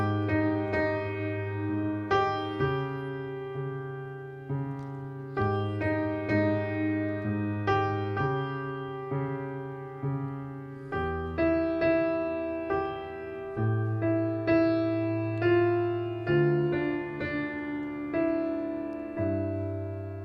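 Solo piano plays a song with a very low left-hand bass under sustained right-hand chords and melody, a steady, gentle run of struck notes throughout with no talking.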